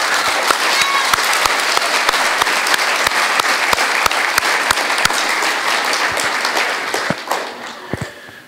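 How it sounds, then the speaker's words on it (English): An audience at a sixth grade graduation and celebration claps steadily for several seconds, a dense, close round of applause that thins out toward the end. "So I'd like to give everybody a round of applause for all of you that did that."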